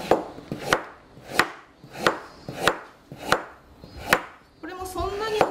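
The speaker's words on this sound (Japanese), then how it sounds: "最初に薄切りにしていきます。" A knife slices a carrot thinly on a cutting board, giving seven evenly spaced, crisp chops, each close and distinct, followed by a brief higher squeaky rustle at the end.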